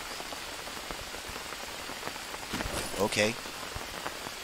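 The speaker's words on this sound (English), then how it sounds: "it seems as though we are in the rainy season right now" Rain falls in the survival video game Green Hell during the rainy season, a dense, steady patter on surfaces throughout, with a short spoken word and a brief rustle partway through.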